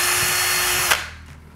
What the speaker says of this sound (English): use small 16th inch drill bit to drill pilot hole,